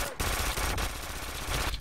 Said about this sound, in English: Let's go with this machine gun.